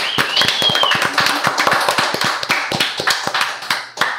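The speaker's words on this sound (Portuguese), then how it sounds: "uma salva de palmas para o nosso convidado de hoje, Lucas Fiore." Applause for a guest on a podcast set, a small group clapping with distinct sharp hand claps at close range, brief whoops over them, fading toward the end.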